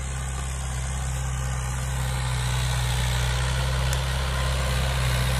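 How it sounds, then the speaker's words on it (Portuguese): A farm tractor engine rumbles steadily and loudly close by on a Bahia farm, a constant low drone with a slight rise as it passes, no voices. "Trator é bicho danado mesmo. Vai passar aqui pertinho que eu vou mostrar pra vocês."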